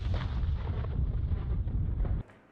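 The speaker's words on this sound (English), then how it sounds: "in the suburbs, the occupiers just shoot from cannons" Russian artillery cannons firing in the suburbs of Mariupol, Ukraine, a sustained heavy low rumble of continuous booming that cuts off abruptly near the end, with no voices.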